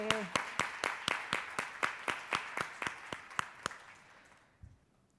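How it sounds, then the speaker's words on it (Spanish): A small audience at a debate panel claps in a slow, even rhythm, about a dozen distinct claps that gradually fade and then stop, fairly quiet and alone. "Le damos un aplauso a Óscar"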